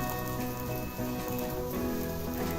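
Puran poli flatbread crisps in oil on a hot griddle over a high flame, giving a steady, dense, close sizzle that sounds like rain, with faint background music.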